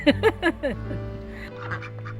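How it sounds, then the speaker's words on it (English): Ducks kept in an urban permaculture garden quack several times in a quick nasal series up close, then a few softer, more distant quacks follow over a low steady hum. "Ducks in the city."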